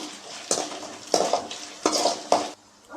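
Peanuts scraped and tossed in a pan over medium flame, with four or five rhythmic stirring sweeps and a light sizzle between them, close and fairly clear.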